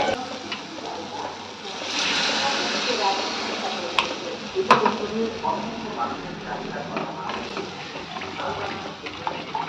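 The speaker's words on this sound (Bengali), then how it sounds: "আর এবার দিয়ে দেবো জল।" Water is poured into frying masala for a boal fish curry, a brief splashing, hissing rush followed by quieter bubbling and faint clinks, with a voice talking nearby.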